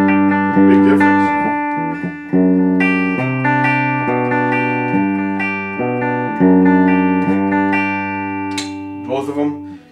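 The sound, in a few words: electric guitar, DBZ Bolero bridge pickup without coil tap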